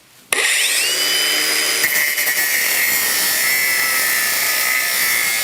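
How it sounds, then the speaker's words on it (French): A power tool with a high, steady whine trims threaded stainless steel rods flush at a pergola post base, starting abruptly and grinding on continuously up close. "je vais araser ici les tiges filetées"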